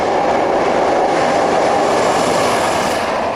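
A British Class 47 diesel locomotive on a cross-country working, heard close and loud as a steady, dense rumble of engine and rolling train with no pauses.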